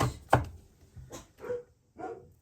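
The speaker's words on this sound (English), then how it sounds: "the neighbor's dog keeps barking" A neighbor's dog barks several times at a distance, short separate yelps spaced about half a second apart, with no talk.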